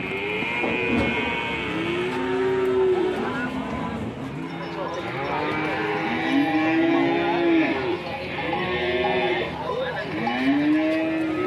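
Cattle at the Ambar Ketawang cattle market in Sleman low repeatedly in long drawn moos, several calls overlapping amid a busy crowd murmur and occasional hoof clatter.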